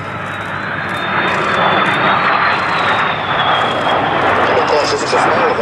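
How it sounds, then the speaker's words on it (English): A de Havilland jet aircraft powered by a Goblin engine flies past at the Duxford Battle of Britain airshow, giving a loud, sustained jet roar that swells and holds, with commentary voices talking over it. "That engine was developed by Frank Halford, de Havilland's engine man, as the Halford H1 before it became a de Havilland product as the Goblin"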